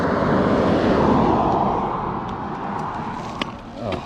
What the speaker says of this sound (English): hearing all these vehicles. I don't know where they're coming from